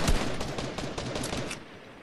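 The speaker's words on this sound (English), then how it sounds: "They might be shooting at each other." Rapid bursts of video game gunfire crackle loudly and continuously through a firefight, dense overlapping shots with no voices over them.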